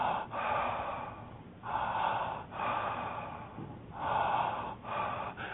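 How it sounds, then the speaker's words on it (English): Connected breathing, each in-breath flowing straight into the out-breath, heard as slow, soft, airy cycles repeating about every second or two, close and quiet, with no talk. "a connected breath is a breath where the in-breath and the out-breath flow as a unit"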